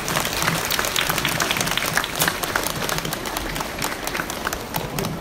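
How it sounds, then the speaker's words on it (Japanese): A crowd at an Aomori Nebuta festival stage event in Tachikawa claps steadily after a Tsugaru shamisen performance, a sustained dense applause with a little faint voice underneath. "皆さん今一度大きな拍手をよろしくお願いいたします。"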